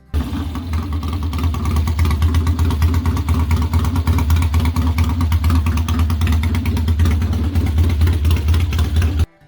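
A restored classic Triumph Bonneville motorcycle engine runs steadily and loudly up close, a throbbing idle with slight revs throughout, no voices over it.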